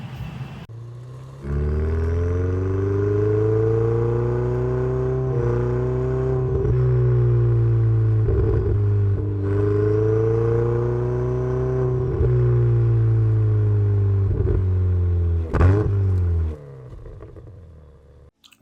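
A steady, loud engine drone from inside a Nissan 350Z, pitch rising and falling slightly as it drives, with a few brief clunks.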